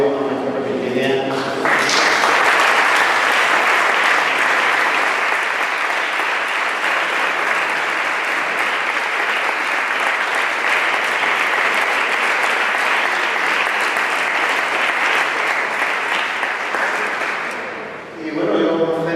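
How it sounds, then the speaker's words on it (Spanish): A sustained, loud ovation of applause rises from an audience at a bullfighting conference in Algeciras, many hands clapping densely for over fifteen seconds before tapering off, with brief voices at the start and end. "debemos de dar una ovación"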